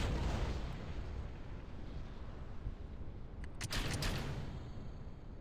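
A rocket engine in Kerbal Space Program roars steadily and loud from the outset, a broad continuous rumble with a brief crackling flare of ignition bursts near the middle before easing slightly.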